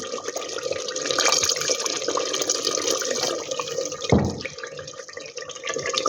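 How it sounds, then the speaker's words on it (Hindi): Water pours steadily into a pot of beef masala curry, a continuous splashing trickle at close range, with a brief clunk near the end. "अब यहाँ पे इसमें हम शामिल करेंगे थोड़ा सा पानी।"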